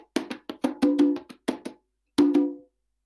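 Main conga drum tuned to C in a Latin percussion setting, struck by hand in a quick irregular pattern of sharp slaps and ringing open tones, close and alone with a brief pause before a final pair of hits.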